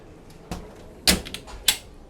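A refrigerator drawer aboard an Ocean Alexander 90R yacht slides and clunks, giving three or four short knocks and thuds close by in a quiet room.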